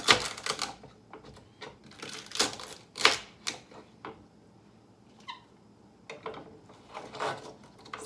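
A knife chops celery on a cutting board in a series of irregular, sharp nearby thwacks and taps, with brief pauses between bursts of cutting.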